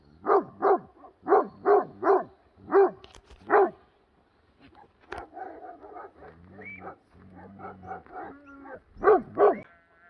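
Several large flock guardian dogs, one Akbash-like, bark in short paired bursts close by, with whimpers and yips in between and a lower growling stretch midway.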